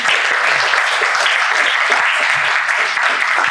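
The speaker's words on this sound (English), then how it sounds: "So give her a round of applause." An audience at a commemoration event claps steadily in a dense, continuous round of applause, fairly close and sustained throughout.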